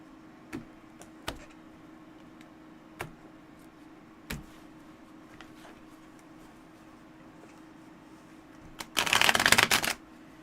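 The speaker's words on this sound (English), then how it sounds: "We're going to shuffle it a little more." Tarot cards being riffle-shuffled near the microphone in a quiet room, a short dense burst of fluttering card noise near the end after several faint isolated taps and clicks.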